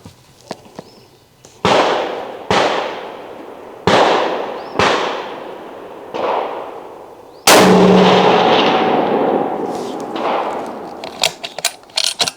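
A Smith and Wesson 1500 bolt-action rifle in 30-06 fires several loud, sharp shots outdoors, each blast trailing off in a long echo, with a bigger boom near the middle and light clicks and handling noises at the end.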